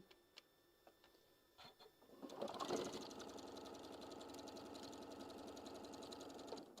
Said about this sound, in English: So you're just going to give it a stitch all the way down.